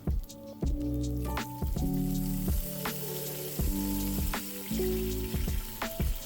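Garlic and balsamic vinegar sizzle in olive oil in a pan, a loud, close crackling fry that comes in bursts with brief pauses between them.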